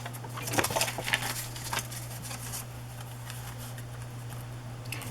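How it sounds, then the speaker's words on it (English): Paper torn by hand at a craft desk for collage ephemera: a few short, rasping rips cluster in the first couple of seconds, then fade into quieter rustling over a steady low electrical hum. "why get out scissors when you can just tear"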